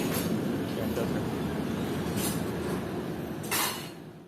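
The 105 Up Rawal Express grinds to a halt at Kharia railway station, with a low rumbling rolling noise, faint wheel squeals and brief metallic screeches that fade as the train slows.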